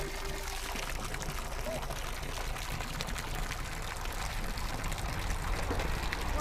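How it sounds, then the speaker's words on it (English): Water running from a shore supply spigot into a narrowboat's tank on a UK canal, a continuous steady pouring rush with no break. "we're filling our water spigot here. Comes from ashore."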